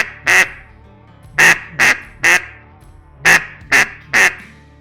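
Duck call blown in short tongued bursts, seven distinct nasal quacks in uneven groups, loud and close with quiet gaps between.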